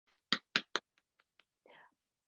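Three sharp, loud hand claps in quick succession, then a few fainter scattered taps, followed by a brief soft voice.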